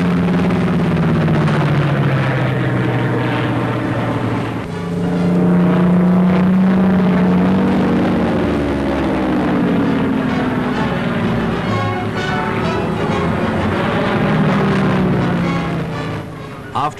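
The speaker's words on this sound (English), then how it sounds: "Allied aircraft filled great spaces of the sky" Massed Allied propeller aircraft of the Second World War airborne invasion drone overhead in a loud, continuous, throbbing roar of engines that swells and wavers throughout.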